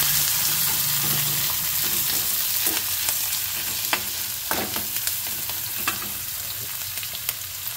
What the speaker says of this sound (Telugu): దీంట్లో ఆనియన్స్, చిల్లీస్ వేసి కొంచెం ఫ్రై అవ్వాలి.